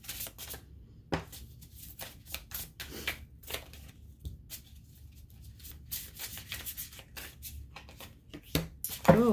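Tarot cards are shuffled and pulled by hand in a quiet room, making a rapid run of riffling, flicking card snaps and soft shuffling bursts that keep going throughout.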